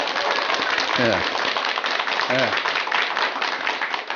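Audience clapping during a Buddhist dharma talk in a hall, a brisk patter of many hands with a couple of short voiced bursts rising over it, steady and fairly close throughout.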